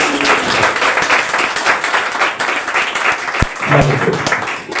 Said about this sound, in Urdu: سارے یسوع کے جلال کے لیے تالیاں بجائیں